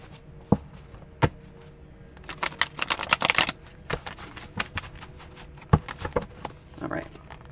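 Cards riffle and snap in a quick, crackly burst, framed by a few sharp taps and clicks, close up with no talking.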